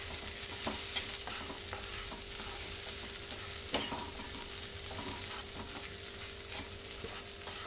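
Sprouts fry and are stirred in a pan: a steady close sizzle with scattered light scraping and stirring clicks, fairly faint and with no voices.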